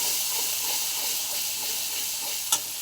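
A spatula stirs mustard-poppy-sesame paste and potatoes in a pan with a steady, loud sizzle and hiss, soft scraping strokes repeating through it and a single sharp clink near the end.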